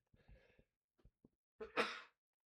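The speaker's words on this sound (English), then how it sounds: "Sorry, I sneezed." A single sharp sneeze bursts out close to the microphone, preceded by a few faint breaths and small mouth clicks in an otherwise quiet room.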